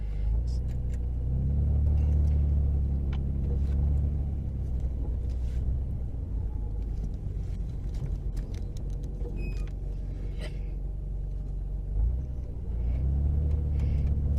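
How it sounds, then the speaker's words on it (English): A 1999 Nissan Skyline R34 GTR N1 drives along, its engine and road noise forming a steady low rumble heard from inside the car, with a faint click or two and a slight rise and fall in tone. "1999 Nissan Skyline R34 GTR N1."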